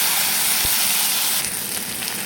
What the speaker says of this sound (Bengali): আর চেরা কাঁচা লঙ্কা, একটু সেদ্ধ আলু, আর কিছুগুলো ছোলা ভেজে নেব। ভালোভাবে ভেজে নেব।